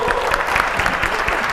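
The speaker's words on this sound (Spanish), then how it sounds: "Aplausos." A television talk-show studio audience applauds a guest's arrival, a dense patter of clapping that stays steady and fairly close for a moment, with a faint voice beneath it.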